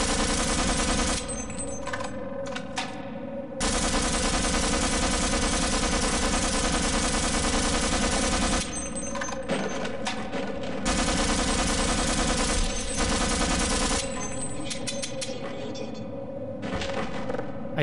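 Gunfire in Half-Life: long, loud, sustained bursts of rapid shots with brief gaps between them, heavy and continuous throughout.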